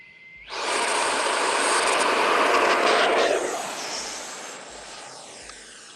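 An Eflite F/A-18D radio-controlled jet with an electric ducted fan spools up into a loud, close, rushing whine that holds for several seconds before gradually easing off as it moves away.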